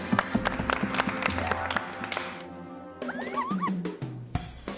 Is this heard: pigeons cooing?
no